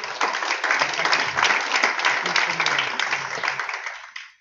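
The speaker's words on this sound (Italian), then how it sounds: "Un applauso ci vuole però" Audience at an Italian conference gives a sustained round of applause to welcome a science journalist, dense and steady throughout before tapering off at the end.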